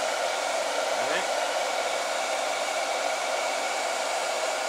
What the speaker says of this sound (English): kick the blow dryer off